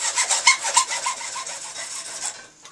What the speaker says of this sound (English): Give a couple of slow strokes first, and it just takes a couple of strokes to start cutting that plastic